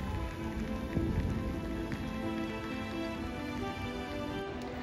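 Steady rain falling in the mountain village of Selva di Val Gardena in the Dolomites, a continuous even hiss with soft patter throughout, no voices.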